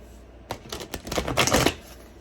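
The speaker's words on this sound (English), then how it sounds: "Let me give that shuffle." A deck of large, bulky tarot cards is shuffled by hand up close, a quick flurry of riffling flicks and slaps building over about a second before stopping.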